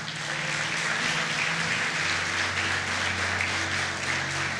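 A church congregation applauding during a prayer campaign sermon: broad, steady clapping under a sustained low musical hum, filling the whole stretch at moderate loudness.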